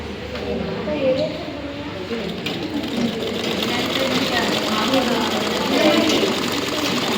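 A sewing machine stitches a folded half-inch blouse hem, its steady mechanical chatter running continuously at close range with a voice speaking over it.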